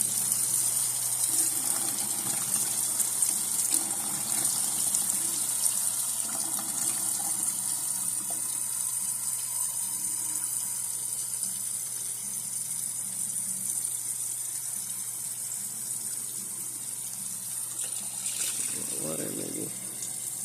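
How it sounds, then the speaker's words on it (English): Tap water from a sink pours steadily over a hand in a lab setting, a continuous close hiss and gush with a faint murmur of voice in the background. "I'm going to run some water from the sink over it and observe the change."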